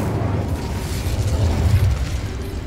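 Incendio fire spell from Hogwarts Legacy, a steady roaring, crackling burst of flame with a low rumble, sustained and fairly loud for a few seconds, no voices.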